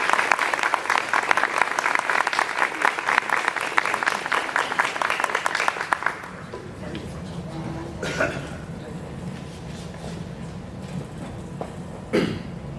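Audience applause welcoming a speaker to a Fort Wayne lecture on the Middle East: dense, steady clapping from a crowd for about six seconds, then fading into quiet room noise with a few coughs and rustles.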